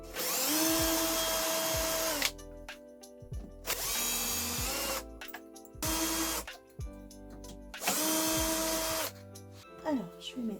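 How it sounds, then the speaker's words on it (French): A power drill unscrews a workbench top during a workshop renovation. Three long, loud whining bursts are separated by pauses filled with clunks and handling noise, and the work is close by. "Là, je vais devoir dévisser ici."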